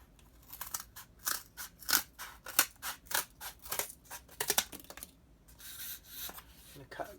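Scissors snip through material in a series of crisp, close cuts with uneven spacing, followed by a softer rustling rub toward the end.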